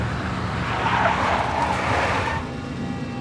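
A big black Mercedes drives by in the 2001 PlayStation 2 game Max Payne, a loud, steady engine roar with a rising tire hiss that swells mid-clip and then drops away.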